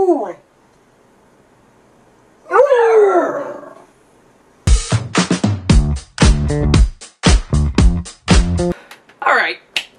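A pet dog howling in long rising wails, then a rapid run of loud, close yips and barks with short pauses between them. No one talks.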